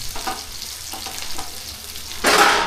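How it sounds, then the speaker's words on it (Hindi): Jackfruit frying in a pan in a home kitchen, a steady close sizzle under soft scraping stirs that ends in a louder burst of hissing. "अभी कटहल को ही फ्राई करने का काम चल रहा है।"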